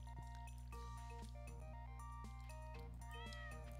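A cat meows in the farming video game Stardew Valley, short game-sound mews heard over steady looping background music.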